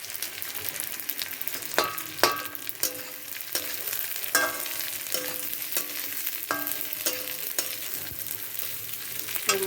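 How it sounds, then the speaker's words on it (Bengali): Rice and lentils fry with salt and turmeric for winter khichuri, a soft continuous sizzle under irregular scrapes and metallic clinks from a stirring spoon against the pot. "চাল ডালটা দিয়ে এর মধ্যে লবণ আর হলুদটাও আমি একসঙ্গে দিয়ে একটু ভেজে নেব।"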